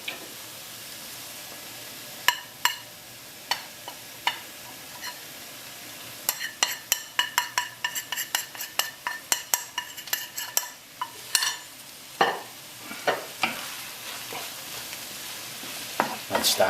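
Spices for a slow-cooked lamb curry sizzle in a hot pan under a steady frying hiss, punctuated by repeated sharp clicks and scrapes of a utensil stirring against the pan.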